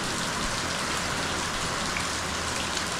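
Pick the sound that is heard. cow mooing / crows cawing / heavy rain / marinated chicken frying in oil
heavy rain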